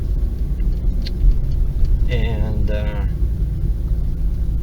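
A 2-liter car engine fitted with a SpeedTech muffler gives a loud, steady low rumble throughout, while someone speaks briefly over it.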